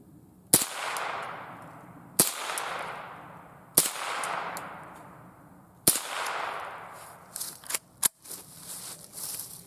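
A Remington Model 552 Speedmaster rifle fires .22 short, long and long rifle rounds, with several sharp loud reports, each followed by a ringing decay, spaced a couple of seconds apart, outdoors with no talk.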